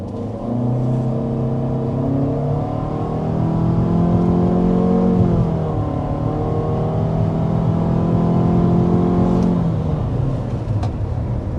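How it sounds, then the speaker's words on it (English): A 2026 Mitsubishi Outlander's 1.5-liter turbocharged engine pulls hard under acceleration to 60 mph, climbing in pitch through several gear changes, loud and continuous with no talking. "we need to go ahead and start with a hard acceleration"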